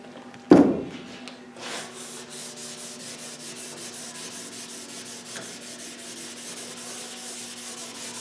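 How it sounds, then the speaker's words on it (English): Steady back-and-forth wet sanding of clear coat on a 1955 Buick Century, a continuous close rasping rub after an initial knock, alone with no voices. "It sands a lot faster than I thought it would"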